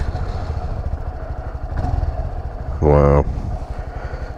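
A brand-new 2018 Honda Grom 125 motorcycle idles with a steady low engine chug, a short louder rev partway through, and someone speaks briefly over it.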